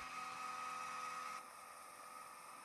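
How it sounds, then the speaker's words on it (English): A Fantastic Fan roof vent motor in a retro camper whirs with a steady high-pitched electric whine, then steps down to a softer hum partway through, faint and close. "if you want air to come, you need to make sure that you turn the blower on"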